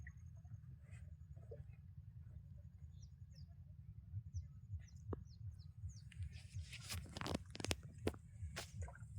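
Scattered high bird chirps over a constant low engine drone at Bortir Bil wetland, West Bengal, during a river and canal trip, with some rustling and knocking noises toward the end.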